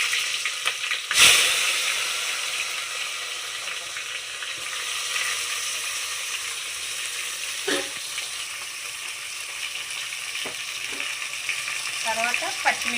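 Onions frying in a pan for chicken tahari give a steady, close sizzle with occasional stirring scrapes and clatters, continuing without pause.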